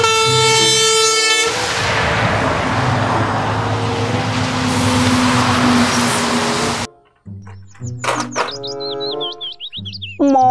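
A toy container truck blares a loud electronic horn, then a long rushing engine-like hiss, followed by chirpy beeping toy melodies, close and without talk.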